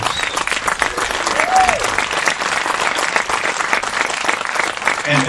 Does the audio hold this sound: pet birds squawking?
no